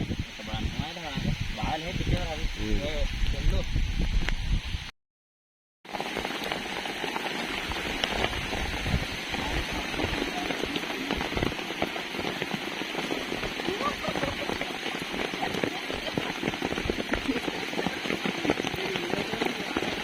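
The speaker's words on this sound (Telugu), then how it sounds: "అప్పుడు ఇంత పెద్ద వాన వస్తే" Heavy rain pouring down on a cotton field, a dense, loud, steady hiss of drops. A voice speaks over it at the start before a brief cutout, after which the downpour continues alone.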